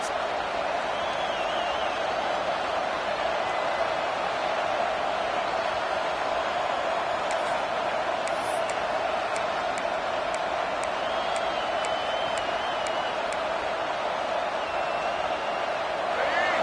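Steady roar of a large stadium crowd at a football game, a dense wall of voices with no breaks, loud and continuous.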